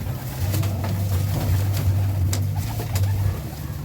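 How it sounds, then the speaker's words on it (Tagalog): Pigeons on a rooftop coo steadily in a low, throaty rolling murmur, close by, over a faint background hum. "Papakainin ko yung mga kalapati na to."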